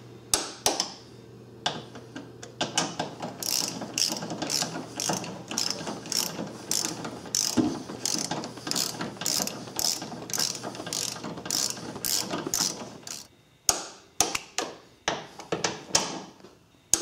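A ratchet wrench torques 14 mm bolts on a Suzuki Forenza with rapid, close metallic clicking strokes that run steadily for about thirteen seconds, then resume briefly after a short pause.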